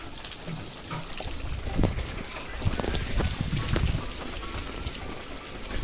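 Strong wind roars steadily against the microphone in gusty, buffeting waves, with rain and water noise mixed underneath.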